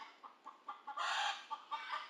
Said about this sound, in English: Those chickens are singing.